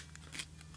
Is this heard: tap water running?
no